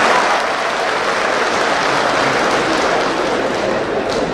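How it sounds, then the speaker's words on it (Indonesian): A large audience at a national electoral commission conference applauds at length, a broad, continuous wash of clapping held at full strength from start to finish. "tepuk tangannya kayaknya lebih panjang daripada"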